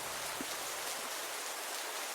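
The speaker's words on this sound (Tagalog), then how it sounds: "patuloy pa rin sa pagbuhos ang ulan" Pouring rain at night near a rural farm, a steady dense hiss of falling water, constant and fairly faint, with no other sounds standing out.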